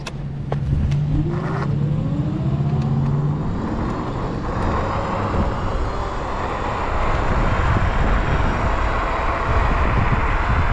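A Dualtron Victor electric scooter on tubeless tires rides at about 50 mph, with a rising motor whine at the start, then loud steady wind rush and road roar throughout.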